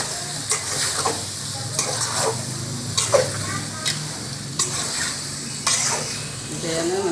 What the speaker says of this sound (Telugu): చేపలు వేసుకొని మంచిగా కలుపుకోవాలి.